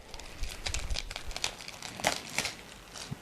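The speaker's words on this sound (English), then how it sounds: "So ripping off the plastic." Plastic wrap being ripped and peeled off an Eleaf iCare vape kit box, a close, quiet run of crinkling and crackling rustles with no voices.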